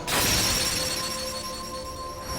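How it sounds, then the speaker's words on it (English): Glass shatters with a sharp burst at the start of a Kingdom Hearts Final Mix scene, then bright tinkling shards and ringing tones trail off over a couple of seconds, loud and close with no talking. "shattering glass"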